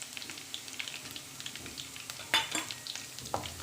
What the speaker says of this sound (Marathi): त्याला सुद्धा छान परतून घ्यायचं